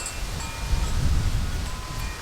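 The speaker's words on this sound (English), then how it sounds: "The wind has just got a chill to it." A chilly wind blows through a yard, a steady low rumble and buffeting against the microphone with faint rustling throughout, no voices.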